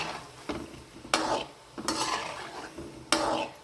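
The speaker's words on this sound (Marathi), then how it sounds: "आता इकडं माझे गुलाबजाम तळून होतात," Gulab jamun frying in oil on a low gas flame, with a soft steady sizzle under repeated sharp clinks and scrapes of a utensil stirring in the pan, all close and fairly quiet.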